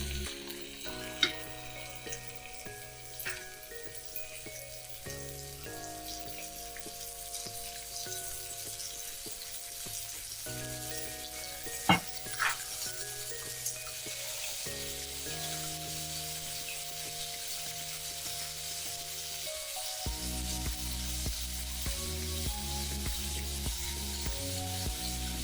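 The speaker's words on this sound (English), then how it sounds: "I'm going to brown this fillet steak on all sides before we add it into our chilli" Fillet steak browns in hot olive oil in a pan with a steady, fairly quiet sizzle and crackle throughout, broken by a few sharp pops and clicks as the meat is turned.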